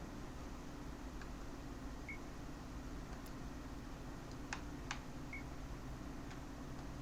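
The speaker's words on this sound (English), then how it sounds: "Do you hear that beeping? What is that?" A device in the video game Dreamfall Chapters gives off several faint, sparse electronic beeps over a steady low background hum.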